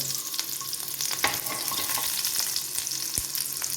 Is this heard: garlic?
yes